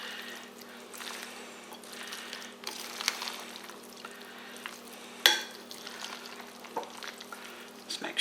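Cold seafood pasta salad stirred in a bowl, giving soft wet squelching and scraping with a few clinks of the spoon, quiet and intermittent.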